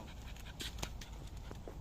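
A border collie pants in quick, close bursts while out on a walk, the breathy huffs running steadily with faint footsteps around them.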